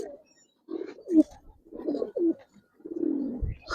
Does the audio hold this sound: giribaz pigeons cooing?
yes